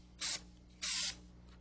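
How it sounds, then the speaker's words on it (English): An aerosol can sprays adhesive onto raw wood cabinet edges during kitchen cabinet refacing. Two short, hissing bursts come close to the mic, the second longer than the first, over a quiet room hum. "spray any exposed edges and other raw wood with adhesive"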